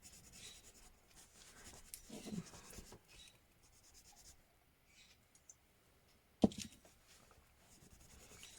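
Coloured pencil strokes scratch across paper during a colouring session, a quiet run of soft rubbing and scribbling with brief pauses and one sharper tap, close and faint, with no talk.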